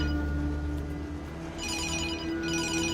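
A telephone ringing in a tense Turkish crime drama, its bright electronic rings pulsing in two bursts over a dense background of music and ambience.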